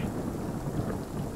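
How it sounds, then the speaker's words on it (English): A close peal of thunder from a storm near a house rumbles continuously and loudly through the low range, steady and broad, with rain texture mixed in and no voices. "Peal of lightning goes off nearby."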